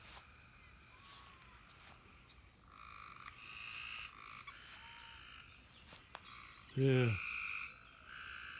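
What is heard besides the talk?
frogs croaking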